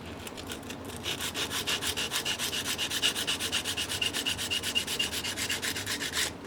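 Sandpaper, starting at 120 grit, rubbed back and forth over an Anschutz 64 rifle part held on a small anvil on a vise, giving steady rhythmic rasping strokes, close and even, with no talking.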